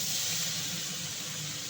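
Green chillies frying in hot oil with cumin seeds while cooking thankuni, giving a steady, loud, close hiss of sizzling that holds without a break.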